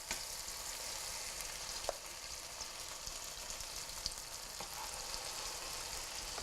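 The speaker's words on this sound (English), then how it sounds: "you just carefully put them into the hot grease" Corn fritters fry in hot grease with a steady, quiet hiss and crackle, faint isolated pops breaking through the even sizzle.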